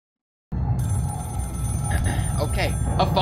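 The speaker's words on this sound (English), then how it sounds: "Okay, a phone ringing?" A telephone rings in the Scream horror video game, a repeated ringing tone set in a tense, noisy backdrop, with a person talking over it.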